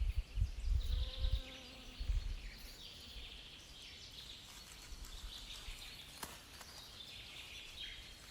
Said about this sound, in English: Its intoxicating scent attracts bees and hungry bumblebees emerging from